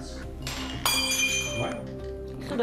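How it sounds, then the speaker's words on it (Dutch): Ceramic cup falls and breaks indoors during a police call-out on Terschelling: a sharp crash with ringing clinks of shards, scattered pieces settling afterward, close and moderately loud. "ik dacht, dit weer van die kopjes, die breken niet. Ja, wel dus."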